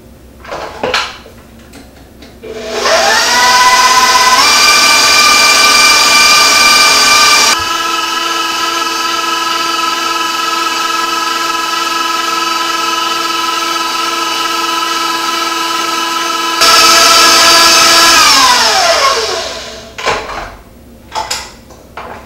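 An electric mixer whipping homemade frosting of cooked flour, milk and salt spins up to a loud, steady whine, shifts to a lower speed for a while, rises again, then winds down to a stop.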